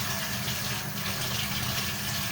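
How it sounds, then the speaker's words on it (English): Tap water runs steadily into a sink for hand washing, a constant close rushing flow with no talking. "But I do want to wash my hands, though."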